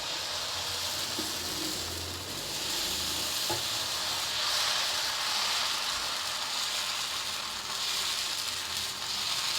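Dosa batter spread on a hot iron dosa pan sizzles continuously and fairly loudly, with a couple of faint clinks early on and no voices.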